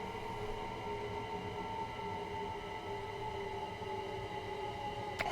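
Train braking in Train Sim World 2 on a London commuter line: a steady rumbling drone with sustained tonal squeal bands that hold throughout, ending with a brief sharp click.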